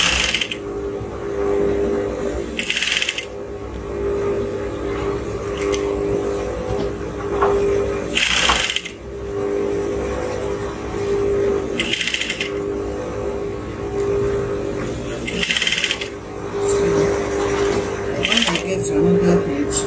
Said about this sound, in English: and then I'm going to continue sewing on it, following this line.